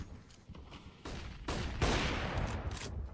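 Video game gunfire with a USP pistol among other weapons, a dense scatter of quick shots building in loudness over a few seconds, somewhat distant and muffled.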